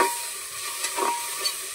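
Tomato masala sizzles in a pan while being stirred, a steady frying hiss broken by soft scraping sweeps of the spoon.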